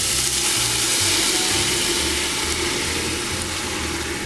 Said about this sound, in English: I'm going to use a little white wine to help bring all that flavor off the bottom